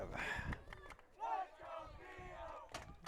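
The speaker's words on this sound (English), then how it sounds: "As the crowd chants, "Let's go Theo."" Spectators at a high school football game between La Salette and Chesterton Academy chant for a player, rising and falling rhythmic group shouts with a commentator talking between and over them.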